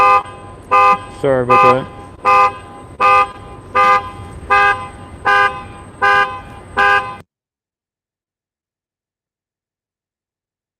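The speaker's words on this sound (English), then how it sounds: "Somebody's car was going crazy here." A car horn or alarm near the SpaceX Starbase main gate at Boca Chica, Texas blares in loud, evenly spaced bursts, about eight in a row, with a short warbling siren-like stretch early on, then sudden silence; a voice speaks briefly.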